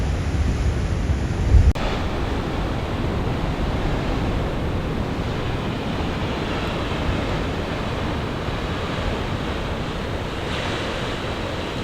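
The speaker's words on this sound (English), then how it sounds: "they're watching the waves break on the rocks like that" Ocean waves breaking on rocks at Depoe Bay on the Oregon coast make a loud, continuous roaring surge with wind rushing across the microphone, steady and unbroken from start to finish.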